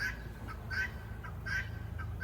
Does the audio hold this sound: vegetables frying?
no